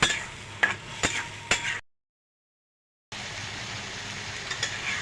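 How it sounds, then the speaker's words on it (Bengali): Spice paste with salt and coriander powder being stir-fried in a pan for layer-chicken giblets, livers, feet and necks: a soft, steady sizzle with scraping spoon strokes and a few clinks, cut by a gap of silence midway. "স্বাদ মতো লবণ বন্ধুরা মশলাটা ভালো করে কষিয়ে নেব"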